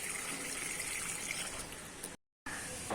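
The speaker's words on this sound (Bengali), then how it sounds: "ফুল তোলার পর আমি এখন তুলসী গাছে জল দিচ্ছি" Water is poured onto a tulsi (holy basil) plant as a steady, soft splashing trickle that runs for about two seconds, cuts out briefly, then resumes.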